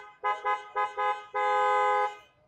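Replacement Japanese-made horn fitted to a Toyota Innova, sounding four short harmonic honks followed by one long sustained blast, loud and close with no voices.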